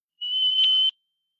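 A single clear, high-pitched whistle of a sunbittern bird holds steady for under a second, isolated against silence.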